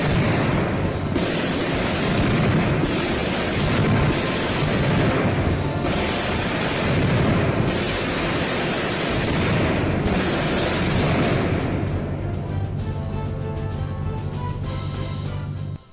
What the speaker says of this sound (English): This is ZSU-23-4 Shilka of Ukraine's 66th Mechanized Brigade firing its 23mm 2A7 autocannons towards a Russian ground force.